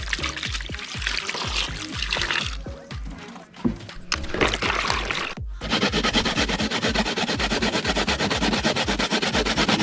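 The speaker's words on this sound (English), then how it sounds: "So we are grate up the coconut, people." Coconut for coconut milk is grated by hand in rapid rhythmic scraping strokes, close and steady, pausing briefly before resuming in a continuous rasping run.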